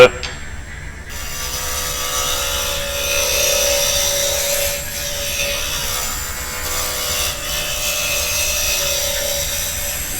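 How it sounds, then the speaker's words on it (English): Sharp chisel shaving wood on a lathe while turning a small box, a steady hissing, scraping cut that runs continuously at close range with slight swells in intensity, no voices over it. "but you see a nice sharp chisel, we're getting really nice just feather shavings there"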